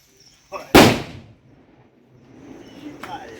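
A firecracker bomb goes off at a São João bonfire night, one sharp, loud blast after a brief crackle, fading into faint background murmur and a short voice afterward.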